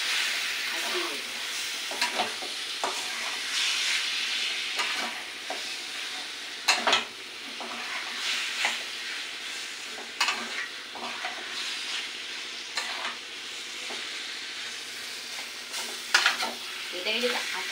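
Prawns cook in a pan with milk and sugar, sizzling steadily while a utensil stirs and scrapes through them in irregular clinks and scrapes, with a soft hiss of steam underneath.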